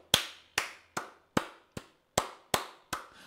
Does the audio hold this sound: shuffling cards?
no